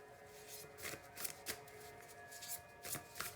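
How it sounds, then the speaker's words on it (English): Oracle cards being shuffled and drawn during a reading, giving a run of soft riffling, flicking card sounds with several brisk bursts, close and fairly quiet, with no talking. "Let's get the Divine card from Oracle."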